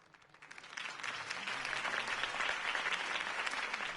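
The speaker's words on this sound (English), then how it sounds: "could have heard that applause" Applause from a crowd in the Batman Telltale video game swells quickly and holds as a dense, continuous wash of many hands clapping.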